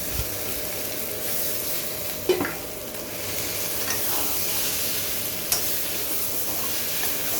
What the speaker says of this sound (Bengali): এর মধ্যে এখন ফুলকপি আর যে আলুটা ভেজে রেখেছিলাম সেটা দিয়ে দিই।